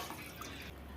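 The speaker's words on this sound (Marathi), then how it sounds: "या कढईमध्ये आपण आता 1 गडवा पाणी टाकूया" Water is poured from a pot into a kadhai while preparing dough for rice flour kachori, giving a faint, steady trickling splash close by.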